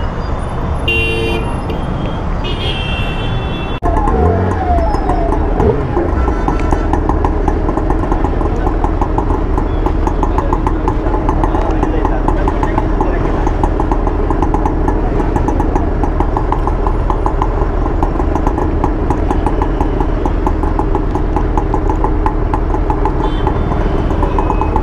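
A Suzuki Hayabusa motorcycle in Warrior custom design runs loud and close, a steady rumbling idle with a brief sharper burst near the start, without speech.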